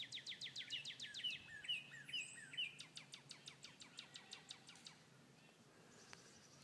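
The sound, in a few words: bird singing in the woods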